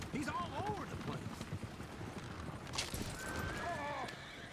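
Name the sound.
horses galloping and neighing, Red Dead Redemption 2 video game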